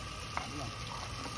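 Battered food frying in a pan gives a faint, steady sizzle with a few small pops and crackles, close by and quiet.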